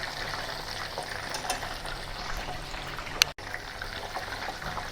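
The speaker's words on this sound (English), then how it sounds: "For the first round of deep frying over low to medium heat, do not crowd the shrimp" Steady crackling sizzle of shrimp deep frying in oil over low to medium heat for Chinese walnut shrimp, a continuous bubbling hiss at moderate level with no talking.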